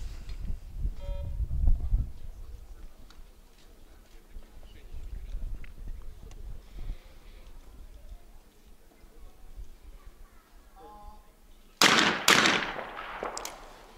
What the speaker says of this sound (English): And that is a miss for Sodhi, and going to be waiting now for Dahlby to shoot.